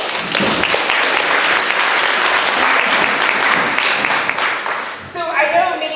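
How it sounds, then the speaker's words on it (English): Audience at a rancher roundtable meeting in Sierraville, California applauds, a loud, dense wash of clapping filling most of the clip before tapering off near the end as a voice begins. "can we give them a round of applause?"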